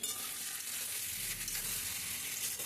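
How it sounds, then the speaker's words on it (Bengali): Potato, eggplant and tomato pieces frying in hot oil with a sprinkle of cumin powder, a steady, close, even sizzle that fills the whole stretch without any talking. "আমার আলু বেগুন টমেটো সব ভালো করে ভাজা হয়ে গেছে"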